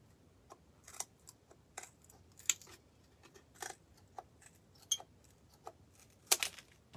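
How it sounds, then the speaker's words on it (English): Scissors snipping off excess sticks while building a rustic bird house, a series of quiet, irregular clicks and snips spread across several seconds with no talking. "I'm just sticking with the scissors."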